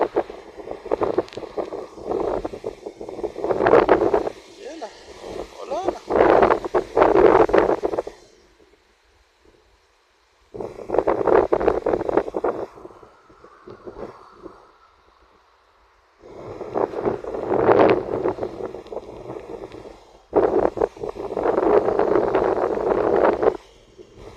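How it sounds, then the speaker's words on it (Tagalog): Strong wind buffets the microphone in loud roaring gusts, broken by brief quieter lulls between them. "malakas yung hangin"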